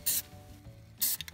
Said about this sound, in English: Now let's go ahead and spray this down here, just to make sure this doesn't rust as well.